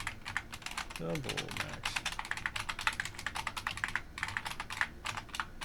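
Rapid, irregular keystrokes on a computer keyboard clatter steadily throughout at close range, with someone briefly speaking over the typing.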